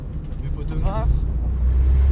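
A car accelerates hard on a closed driving track during a driving-skills day, its engine a steady low rumble that builds under a man's continuous spoken instruction.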